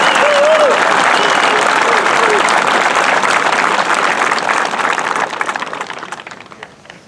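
A crowd welcomes returning veterans of an Honor Flight with sustained, loud applause and scattered voices and whistles, the clapping thinning into individual claps and fading out over the final seconds.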